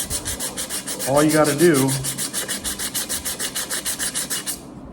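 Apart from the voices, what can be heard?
scrubbing a grease burn off an aluminum pot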